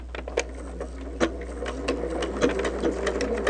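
Sewing machine stitching quilt pieces together, a steady mechanical whir with rapid needle rattle and a few louder clacks, running continuously with no talking.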